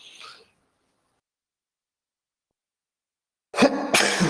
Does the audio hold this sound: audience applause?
no